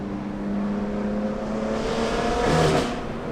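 A BMW M2 Competition with a Valvetronic Designs equal length exhaust, valves open, gives a steady loud droning exhaust note that swells into a brief rev before settling.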